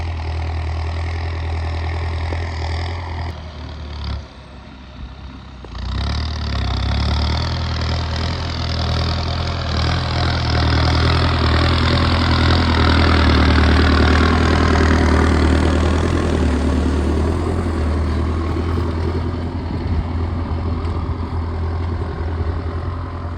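A tractor engine used for tilling starts with a brief stutter, then runs loudly with a deep, steady chugging rumble that swells a little and stays up close throughout.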